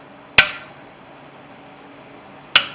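Two sharp metallic hammer strikes on the wheel hub flange of a 2004 Chevy Astro van, about two seconds apart, each ringing briefly in a quiet garage.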